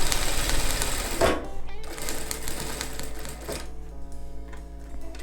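A sewing machine runs in bursts while stitching along the edge of a bag panel, starting with a steady close whir, pausing briefly, then resuming with shorter stops near the end.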